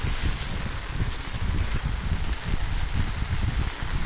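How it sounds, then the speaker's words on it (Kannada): Heavy rain in Nagara in the Malnad region falls as a steady, loud, dense hiss with no gaps, and wind noise rumbles against the microphone throughout. "ಫುಲ್ ಮಳೆ ಬರ್ತಾ ಇದೆ."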